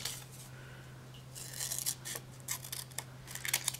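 Quiet, crisp snipping of scissors through paper tangram pieces, several short cuts in an irregular rhythm, close by, over a faint steady hum.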